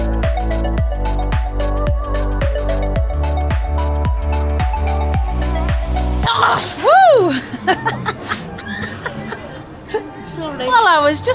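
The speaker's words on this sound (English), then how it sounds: "You have a massive sneezing fit." A person has a sneezing fit at a Disneyland Paris character meet: several sharp, close sneezes burst out in quick succession after a stretch of pulsing music, with laughter and voices in between.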